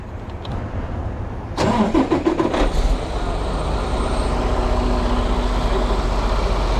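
A Freightliner truck's engine cranks and catches at about 1.5 seconds, with a brief burst of loud rattling starter sound, then settles into a steady, close diesel rumble that continues to the end.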